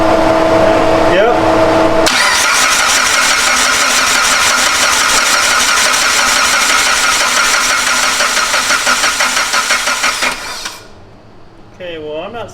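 A Mitsubishi EVO engine cranks steadily with a loud, rhythmic whirring churn for about eight seconds, then the cranking fades out into near silence, with a voice briefly speaking near the end.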